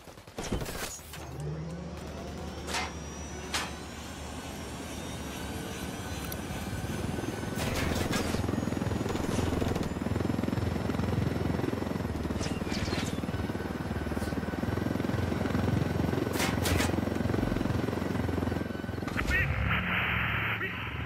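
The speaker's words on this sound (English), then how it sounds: "We should take the chopper." A helicopter in Ghost Recon Wildlands keeps up a dense, steady rotor roar for about twenty seconds, with sharp gunfire-like cracks and clanks cutting through at intervals.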